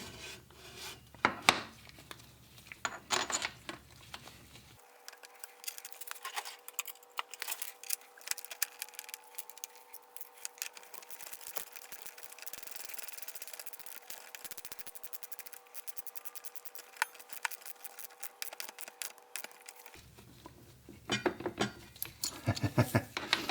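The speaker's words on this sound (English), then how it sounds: "Well, let's put the caliper on there." Metallic rubbing, scraping and clinks from fitting a front brake caliper onto a Honda VFR motorcycle, close and irregular, with a steady whine under the middle stretch.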